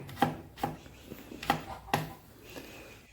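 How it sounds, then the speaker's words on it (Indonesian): A knife cutting garlic cloves into large slices on a board, four distinct close knocks spaced about half a second apart, followed by quieter handling noise. "Kemudian 3 siung bawang putih diiris juga"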